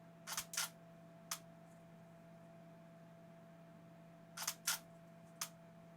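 A camera shutter fires in quick clusters of sharp clicks, two or three at a time with pauses between, close and crisp over a steady electrical hum in a quiet room.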